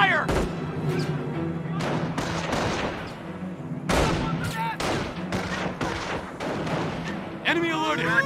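Gunfire and explosions in the World War II strategy game Company of Heroes during the Normandy invasion, with dense bursts of rifle and machine-gun fire and heavy booming thuds, loud and continuous under a shouting voice.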